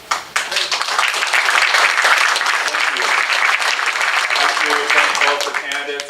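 An audience at a candidate forum breaks into applause, loud sustained clapping from a crowd that holds for several seconds before tapering at the end.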